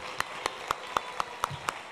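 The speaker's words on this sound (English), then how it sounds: "Big round of applause to these students." A school board meeting audience applauds elementary students, the sound dominated by a few sharp, evenly spaced nearby claps over a quieter wash of clapping.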